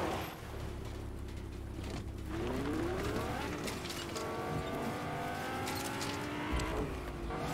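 Car engine in Fortnite, driven through the game world while collecting loot from the vehicle, steady motor drone with shifting pitch and a brief tire squeal, fairly loud throughout.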